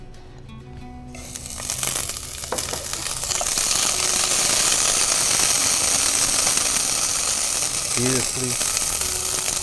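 Ground ginger in hot oil in a pan, rising to a loud, steady sizzle that builds after the first seconds and holds to the end, with someone speaking briefly over it.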